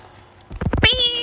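A cartoon cat in the Tom & Jerry Chase video game gives a single loud, drawn-out meow, starting with a few short choppy sounds and then holding a clear, tonal cry.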